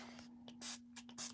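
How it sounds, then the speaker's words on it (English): Ink is sprayed onto mixed-media art journal pages in several short, airy hisses from a spray bottle, close and fairly quiet over a faint steady hum. "a little spray on the pages"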